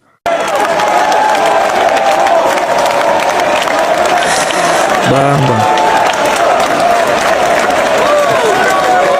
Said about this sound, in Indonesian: satu stadion memberikan aplaus tepuk tangan untuk Bang Kone